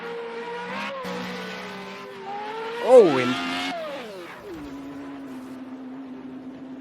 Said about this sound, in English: just the car slipping and sliding through Spoon